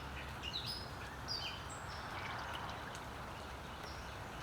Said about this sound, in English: You can see, you probably can't see it, but water's flowing through there.